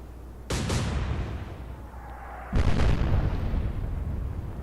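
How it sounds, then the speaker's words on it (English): A torpedo explodes in two heavy, booming blasts a couple of seconds apart, each a loud roaring burst that lingers and rumbles after the hit. "A single torpedo."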